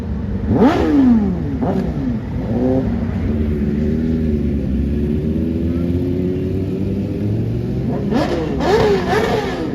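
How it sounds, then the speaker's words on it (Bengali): High-revving superbikes race in place outside a roadside dhaba on the Durgapur Expressway, engines rising and falling in loud repeated surges, with a steady motor drone between bursts. "সুপার বাইকগুলো দাঁড়িয়ে দাঁড়িয়ে রেস করছিল এবং চাকা থেকে মিলি করে ধোঁয়া বার করছিল"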